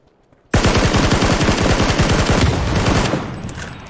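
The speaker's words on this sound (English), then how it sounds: "Oh yeah, he shot at me." Loud, close automatic gunfire in the video game PUBG rattles off as one rapid burst of rhythmic shots lasting a few seconds, then cuts off abruptly.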